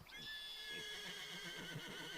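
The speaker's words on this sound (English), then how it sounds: "Yeah, it's horses, alright." Horses neigh and whinny in a prehistoric survival video game, a faint, distant high-pitched call lasting about two seconds, with soft hoof clip-clop underneath.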